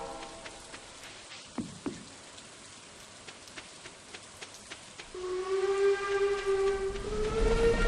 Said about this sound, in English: Let's go and watch the train.